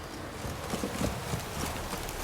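Geralt's horse Roach from The Witcher 3 galloping up during a rainy downpour, rapid hoofbeats pounding on the ground close by and fairly loud, with no talking over the steady rain hiss.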